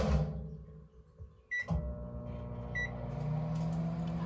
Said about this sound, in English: I'm gonna throw this in the microwave for a bit.